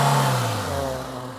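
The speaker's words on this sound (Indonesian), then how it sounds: "Suara mesinnya halus" A car's engine revs up then settles, a smooth mid-pitched hum sliding down in pitch and easing in loudness, heard alone and close.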